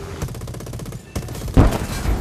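Fighter plane machine guns fire in a video game, a dense rapid stream of loud shots from a plane carrying twelve guns, briefly pausing before a heavier burst resumes close and booming.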